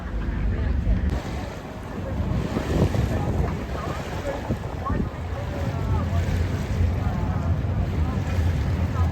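A tour boat cruising on the Douro River in Porto gives off a steady rumble of engine and water, with gusty wind buffeting the microphone and someone talking throughout.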